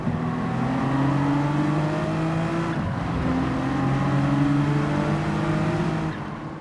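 Race car engine in Gran Turismo 7 drones steadily and loud throughout, holding sustained tones that climb and shift with a brief dip mid-race as gears change, then fade slightly at the end.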